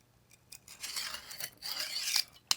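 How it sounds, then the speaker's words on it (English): A knife blade rasps over a rock in several gritty scraping strokes, dulling the edge, fairly close and moderately loud, with no talking. "run it over this rock a few times, dulling this thing out"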